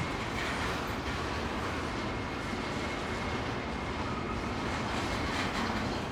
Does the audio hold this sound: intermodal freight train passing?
yes